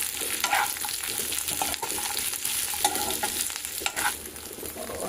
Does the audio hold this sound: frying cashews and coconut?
yes